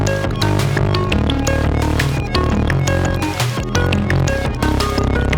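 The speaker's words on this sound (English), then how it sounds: "And you can drop it into a Eurorack case and make sounds like this." A dense Eurorack modular synthesizer texture with a Moog Labyrinth plays continuously, with layered droning tones and busy, rapid electronic blips and clicks over it.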